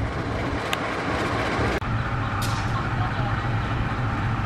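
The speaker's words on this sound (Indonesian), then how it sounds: "kereta api Batu Raden diberangkatkan kembali dari stasiun Cibatu" A steady low rumble of the Batu Raden passenger train departing Cibatu station, Indonesia, with broadband rail noise holding throughout and a brief dropout midway.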